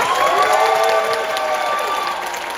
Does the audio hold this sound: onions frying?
no